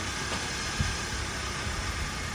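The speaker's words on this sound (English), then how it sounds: "Started right up, folks. Engine sounds very quiet." A 2013 car at a towing auction idles steadily with a low, even rumble and hiss, quiet and continuous throughout.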